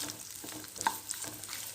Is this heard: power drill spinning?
no